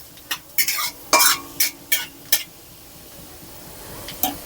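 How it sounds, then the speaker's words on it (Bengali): A spoonful of black cumin frying in hot oil in a wok, a soft steady sizzle broken by a series of sharp metallic stirring scrapes and clinks, close and clear with no talk. "তেলটা আমার গরম হয়ে গেছে। আবার অল্প আমি 1 চামচ কালো জিরে দিলাম। কালো জিরেটা একটু ভাজা হয়ে যাবে"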